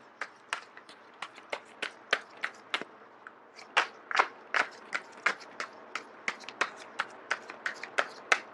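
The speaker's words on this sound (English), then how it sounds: "I am going to shuffle until the first card drops out." Tarot cards shuffled by hand in a steady run of crisp, close riffling snaps and flicks, repeating roughly twice a second for several seconds with no talk over them.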